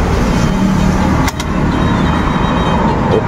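A Yamaha Aerox V2 scooter engine runs during a test after headlight lens replacement, a steady close idle hum with a brief sharp click partway through.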